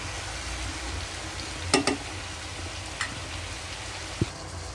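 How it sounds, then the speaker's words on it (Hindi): Bitter gourd and potato cooking uncovered in a kadhai over a medium flame, a soft continuous sizzle with a few faint clinks of stirring, no talking. "सो अभी ये पकता रहेगा,"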